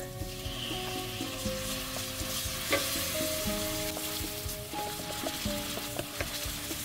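Garlic and pork fry in a pan with a constant close sizzle and crackle, along with occasional light clinks of a utensil while frying lumpia filling.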